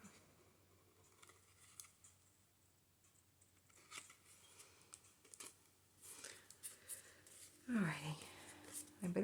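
Scissors snipping a used Christmas card during a junk-journal craft session, quiet close cuts over soft rustling, with a few louder snips and handling near the end.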